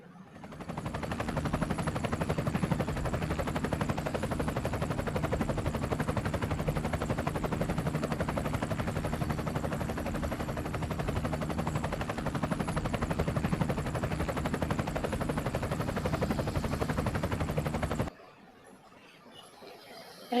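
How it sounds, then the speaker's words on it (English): A helicopter's rotor beats in a fast, steady chop for about eighteen seconds, fairly loud and continuous, then stops abruptly into near silence. "Helicopter,"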